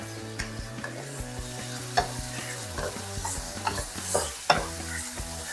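Shrimp and pork stir-fry in a wok under a steady sizzle, with repeated sharp scrapes and clanks of a spatula against the metal at an uneven rhythm, close by and without speech.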